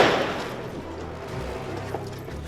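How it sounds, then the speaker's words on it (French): A loud blast from a powerful firework mortar fired at police in a housing estate rings out at the start and fades into a rumbling echo, with faint distant noise afterward. "Les policiers sont la cible de tirs de mortier."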